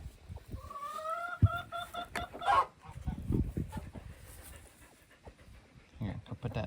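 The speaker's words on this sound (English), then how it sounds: "there's some broody hens in here" Broody hens cluck in a farm coop, soft repeated clucks and murmurs close by, with a person talking over them and some panting-like noises.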